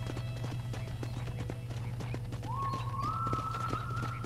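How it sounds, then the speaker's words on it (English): Horse hooves clip-clop in a steady rhythm in Red Dead Redemption 2, over a constant low hum, with a rising neigh or whinny near the end. "I picked out a fine horse for you."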